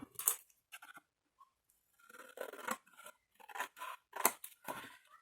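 Scissors snipping through washi paper up close, several short separate cuts in an uneven rhythm with quiet gaps between them.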